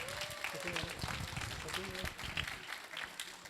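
Scattered audience clapping for a psychiatrist at a panel talk, fairly quiet and mixed with people talking throughout.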